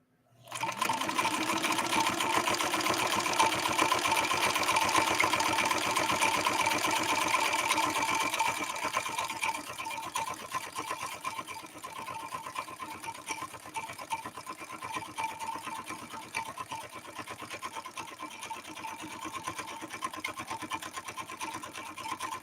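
A 1970s Kenmore 158.13520 sewing machine runs steadily, stitching a crescent stitch through genuine cowhide. Its rapid, even mechanical hum stays close and continuous throughout, a little louder in the first several seconds.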